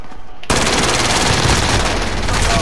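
Automatic gunfire in the video game Call of Duty: Modern Warfare bursts in suddenly after a quiet moment and continues as a loud, sustained rapid stream of shots.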